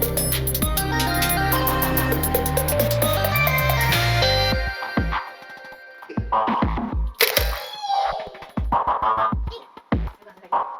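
Several sharp mechanical clicks, close and distinct, follow a stretch of loud music, with short pauses between the clicks.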